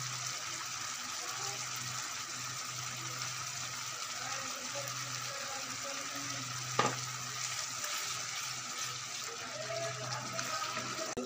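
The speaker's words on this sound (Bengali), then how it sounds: "মশলাটা ভালোভাবে কষাইয়ে নিচ্ছি" Masala for mutton liver frying in a pan with a little water, a faint steady sizzle with soft occasional stirring and one brief sharp knock, under a low background hum.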